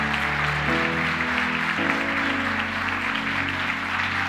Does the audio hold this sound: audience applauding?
yes